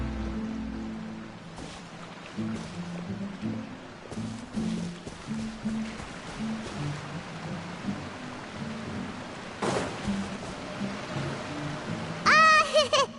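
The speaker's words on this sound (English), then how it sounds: "Oh, it's raining." Steady video game rain patters throughout with low rumbles, a couple of bright crashing bursts, and a swooping chime near the end.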